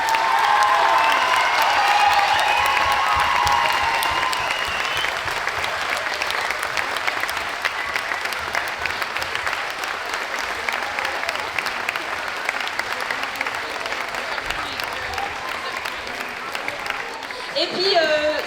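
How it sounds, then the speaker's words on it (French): An audience at an evening stage show gives a long round of applause, loud dense clapping that starts strong and slowly thins toward the end, with a voice briefly heard over it. "un grand applaudissement"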